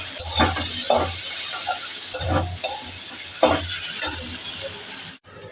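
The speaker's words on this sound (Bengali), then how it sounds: "টমেটোগুলোকে দিয়ে এবার এটাকে আমি ভালো করে ভাজবো" Tomatoes are stirred into fried onions in a pan over a medium gas flame: a constant sizzle broken by rhythmic spatula scrapes about once a second, ending abruptly.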